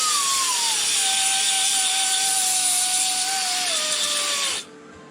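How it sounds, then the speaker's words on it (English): Belt sander running on the rusty quarter panel of a Volkswagen Beetle, a steady close whirring hum that sags gradually in pitch under load before cutting off abruptly near the end. "get the belt sander."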